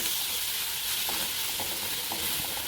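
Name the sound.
stirring chili powder and turmeric into cooked fenugreek leaves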